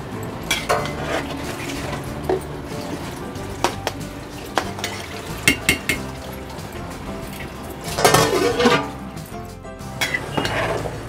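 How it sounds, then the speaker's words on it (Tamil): Rice being stirred in a pot while making chicken biryani, with clinks and scrapes of a utensil against the metal and a soft watery bubbling underneath, the strokes irregular and close. "அரிசி சேர்த்துட்டு நல்லா அடியிலேருந்து மேல் வரையும் கலக்கி கொடுங்க."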